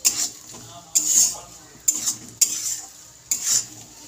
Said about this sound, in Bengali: নারকেলটা হালকা করে ভেজে নেব।